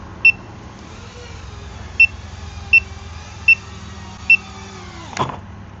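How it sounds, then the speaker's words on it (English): Five sharp, high electronic beeps from a nearly dead LiPo battery, spaced about a second apart over a low hum, followed by a brief clunk near the end. "this is so annoying that it's beeping"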